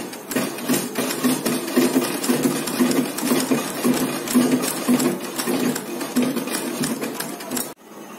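A sewing machine running double stitching along a pure cotton scarf, with a fast, continuous mechanical whir and tapping up close that stops abruptly near the end.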